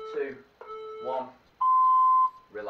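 A single steady electronic beep from a workout interval timer sounds for under a second, loud and clear, between stretches of a coach's voice speaking before and after it.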